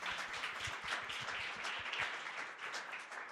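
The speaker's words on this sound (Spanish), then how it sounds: "Gabriel Bomaro, a quien volvemos a recibir con un fuerte aplauso" Steady applause from an audience welcoming a speaker at a talk, many hands clapping densely and evenly for a few seconds with no voices over it.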